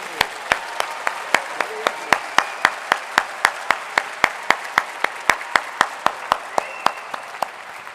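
Audience at a graduate commencement ceremony clapping in sharp, evenly spaced claps over a steady background of scattered applause, sustained throughout and fairly loud in a large hall.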